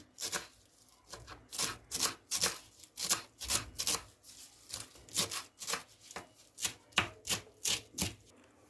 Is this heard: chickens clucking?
no